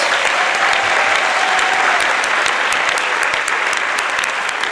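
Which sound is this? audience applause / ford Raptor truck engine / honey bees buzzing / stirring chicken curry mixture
audience applause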